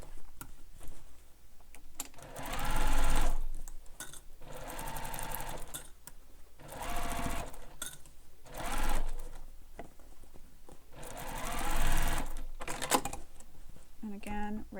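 A sewing machine stitching beside a seam on a handbag, several bursts of rapid mechanical whirring a second or two long, separated by pauses, with a person talking quietly in between.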